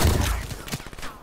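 Video game energy rifle, the Rift E9, firing bolts two at a time: a short, dense burst of rapid electronic shots, loud and close, that fades out after about a second.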